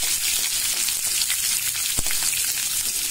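Crushed garlic sizzling in hot oil in a pan for drumstick-leaf poriyal, a dense continuous frying hiss close by, broken by one sharp tap midway.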